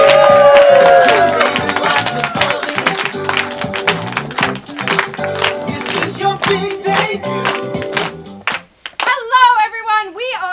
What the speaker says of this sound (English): Keep that round of applause going for Stop That Baby!